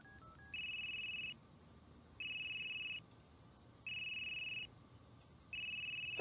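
A telephone ringtone sounds after the number is dialed: four evenly spaced electronic rings, each about a second long with short pauses between, moderately quiet over a low background hiss.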